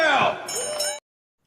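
A small bell rung once during a live Star Wars card-selling stream, a bright metallic clang with ringing overtones that decays over about a second and then cuts to silence.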